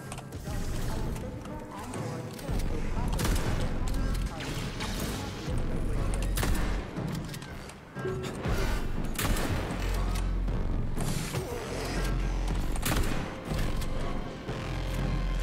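Shotgun gunfire in the video game Atomic Heart, heavy booming blasts repeating every second or two over a dense, loud wash of game combat noise and music.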